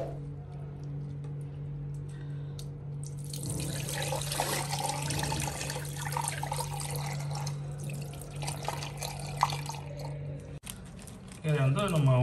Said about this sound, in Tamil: கீரையை நல்லா கழுவி எடுத்துக்கலாம்.